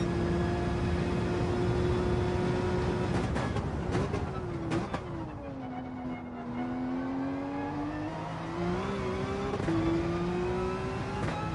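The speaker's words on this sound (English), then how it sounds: "Bouncing off the limiter, which is not" A race car engine in Gran Turismo 7 holds high revs and bounces repeatedly off the rev limiter, with a steady buzzing drone that dips and climbs again in pitch, loud and close throughout.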